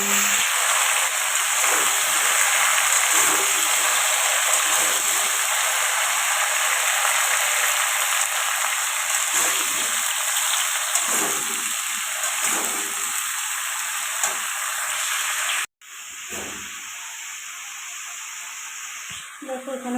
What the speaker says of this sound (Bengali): তেল গরম হয়ে গেছে আমি এখানে জিরেগুলো দিয়ে দিলাম এখানে জিরে ফোড়ন দেবো